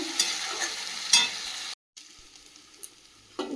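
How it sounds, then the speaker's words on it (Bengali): Mutton being braised (kosha) in a pan, with steady sizzling and frying interrupted by occasional stirring scrapes, a brief silent gap midway, then quieter sizzle under a lid. "এইভাবে এইভাবে ঢেকে রেখে রেখে মাংসটাকে কষিয়ে নেব"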